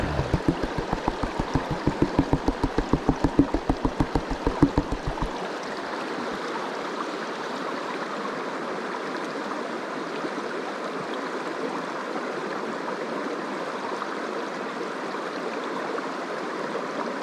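Stream water sloshes and washes through a gold prospecting pan in Vermont, with rhythmic swirling splashes for about five seconds before settling into a steady, close rush of flowing water.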